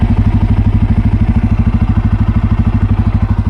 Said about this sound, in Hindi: इसका एग्जॉस्ट नोट भी बहुत सुंदर है। मैं आपको सुना देता हूँ एक बारी अच्छे से